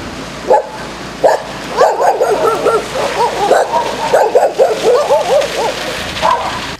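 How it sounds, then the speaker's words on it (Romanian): Several stray dogs bark and yip together in a town street, a dense overlapping chorus of sharp, fairly close barks that keeps going with only brief gaps. "Haite de câini stau la pândă, gata să atace."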